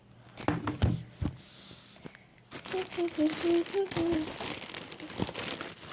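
Crinkling and rustling of plastic and paper wrapping as a boxed 3D pen package is handled and opened, with a person speaking at times.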